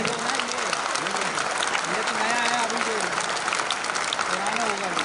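A large audience at a political event in a hall claps continuously while a voice speaks over the applause through a loudspeaker.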